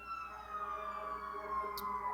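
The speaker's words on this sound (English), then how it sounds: "there's an ambulance outside" An ambulance siren wails faintly outside, its steady tonal sweep carrying through the room as a quiet, continuous background sound with no talk.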